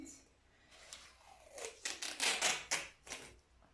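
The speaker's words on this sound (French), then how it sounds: "On va appliquer le scotch." Several sharp ripping strips of adhesive tape pulled off a roll, close up, in quick bursts with brief pauses between them.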